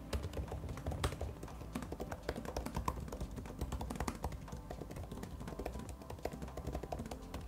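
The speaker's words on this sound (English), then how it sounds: "the keyboard sounds great and is not loud" Rapid, soft clicking of MacBook Air M3 15-inch laptop keys typed continuously at a steady, busy pace, fairly quiet and close.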